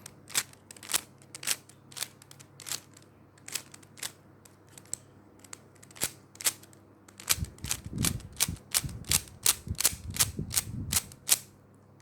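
Rapid plastic clicks and clacks from a Rubik's cube being turned, steady bursts of snapping turns that grow busier and thicker toward the end, no talking.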